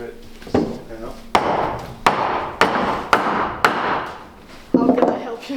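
Hammer blows strike wood in a steady rhythm during boatbuilding work on laminated bulwarks and deck planking, about seven sharp knocks, each ringing briefly, close by.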